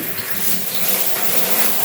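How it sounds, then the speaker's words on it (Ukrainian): Water from a tap or shower pours steadily onto a potted orchid, running into the centre of the plant and soaking its pot and soil. The stream is a close, continuous broadband splash with no talk over it. "У центр я пускаю, щоб пішло багато води."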